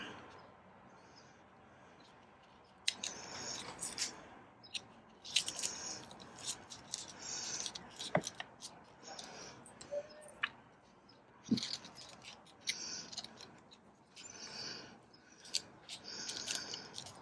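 Scissors cutting paper or tape for a Christmas craft, a series of close, crisp snips in uneven rhythm after a quiet start, with faint handling noise between cuts.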